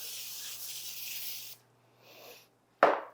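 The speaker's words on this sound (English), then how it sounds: "spray it with some nonstick cooking spray" A long steady hiss of aerosol cooking spray, then a short second burst, followed by a sharp tap at the end.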